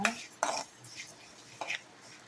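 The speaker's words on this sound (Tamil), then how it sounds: "ஒரு 3 கரண்டி அளவு பச்சை பயிரை நல்லா பொன்னிறமாக வறுத்துக்கோங்க" Green gram dry-roasting in a pan, with a few distinct metallic scrapes and clinks of a spoon stirring against the pan, spaced apart with quiet gaps between.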